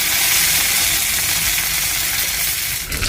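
Mustard seeds, fenugreek, dried chilli and curry leaves sizzle loudly in hot oil for a Kerala-style mango curry tempering, a dense, continuous close-up crackle that eases slightly at the end.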